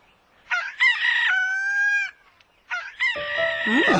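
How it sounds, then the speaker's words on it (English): A rooster crows twice nearby, each loud call rising then holding a long drawn-out note, with a brief pause between them. "the rooster's also hungry"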